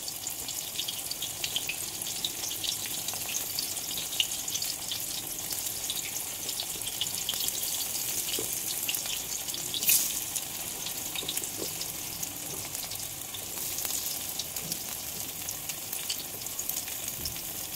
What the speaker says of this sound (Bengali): এখন ওই তেলেই কাঁকরোলগুলো ভেজে নেব।